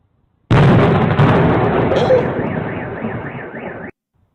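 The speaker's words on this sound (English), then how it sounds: "explosions, the sounds of explosions, were reported on the city's edge" An explosion booms on the edge of Moscow: a sudden, heavy blast whose rumble rolls on for about three seconds while a car alarm wails through it, then cuts off.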